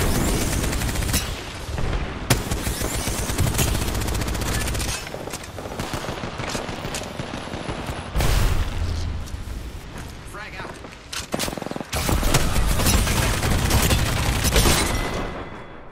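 A frag grenade blast and sustained gunfire in the video game Apex Legends, a loud and dense stretch of shots and booms that continues almost without pause, with voices calling out over the fighting.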